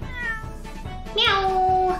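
A cat meows in the Great Ace Attorney Chronicles video game, one clear, drawn-out meow rising then falling, heard close and loud after a brief stretch of quieter background.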